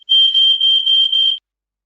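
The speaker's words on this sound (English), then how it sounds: "looks like we've got a fire alarm going off" A loud, piercing electronic fire alarm beeps five times in quick succession, each high-pitched tone running into the next, then stops, leaving silence.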